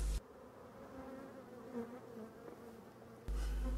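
A honeybee swarm leaving a small nucleus hive drones in a steady, faint buzz, framed by louder rustling handling noise at the start and end.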